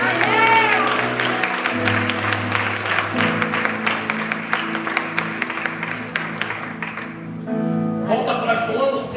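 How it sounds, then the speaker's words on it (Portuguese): A church congregation claps at an Easter service over sustained music, with the clapping fading before a short pause and renewed music. "Você pode aplaudir Jesus?"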